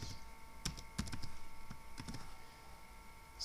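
Someone types code on a computer keyboard, producing a light, irregular patter of key taps with a few sharper strikes, fairly quiet against a steady background hum.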